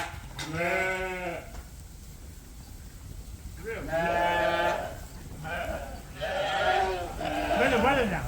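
Sheep on a farm bleat loudly and close by in several long, wavering calls with short pauses between them, and no other voices cover them.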